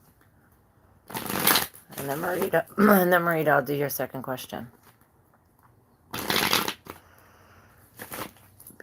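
Short bursts of tarot cards being riffled and shuffled, crisp and close, with someone talking between the bursts.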